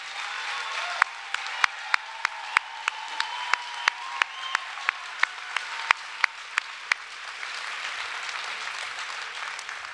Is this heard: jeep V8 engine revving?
no